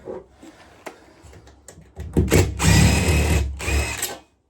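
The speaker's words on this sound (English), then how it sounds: "Alright, let's get these screws off." A power drill removing screws from a radiator, a few short clicks and taps before a loud whirring burst of about two seconds that spins down and stops abruptly, close up with no talk.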